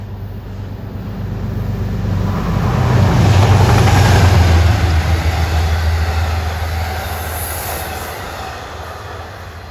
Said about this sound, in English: 239 for Albany Rensselaer.